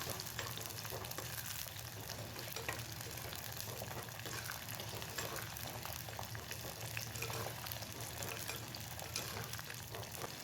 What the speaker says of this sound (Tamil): இப்போ எல்லாத்தையும் 5 நிமிஷம் நல்லா வதக்கி விட்டுக்கலாம்.